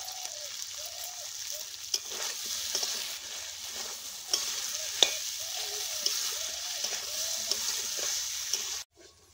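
Chopped ginger and curry leaves fry in hot oil with a continuous crackling sizzle, a spoon repeatedly scraping through, faint melodic tones behind, before cutting off abruptly at the end.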